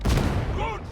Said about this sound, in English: you can actually shoot specials with the grenade launcher, grenade gauntlet